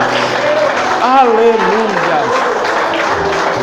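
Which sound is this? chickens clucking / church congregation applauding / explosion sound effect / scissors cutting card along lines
church congregation applauding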